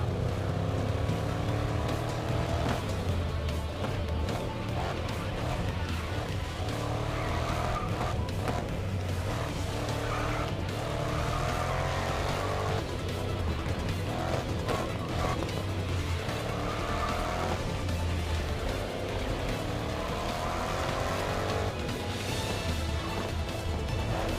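Loud racing car engines roar continuously with skidding tires squealing through corners in the GRID Legends racing game, a dense, steady wall of engine and tire noise throughout.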